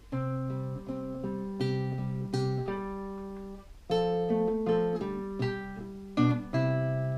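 A plucked guitar plays a short melody of single notes and chords, clear and close, with a brief pause midway before the line resumes.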